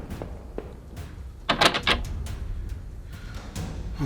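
A door unlocking in the video game Home, heard as a cluster of sharp mechanical clicks and clacks over low background noise, fairly close and distinct.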